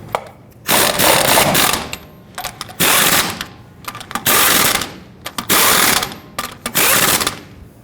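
Lug nuts being snugged down on a Toyota Tundra wheel with a ratchet: five loud, close bursts of rapid clicking, each lasting about a second, separated by short pauses.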